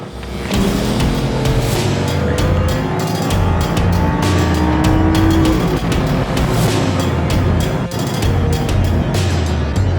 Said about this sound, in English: this is where we can actually put foot down and hit us into the sport mode